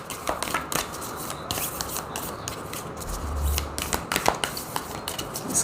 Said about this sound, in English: These cards are really hard to shuffle because they're like circular.